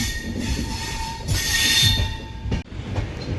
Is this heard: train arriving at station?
yes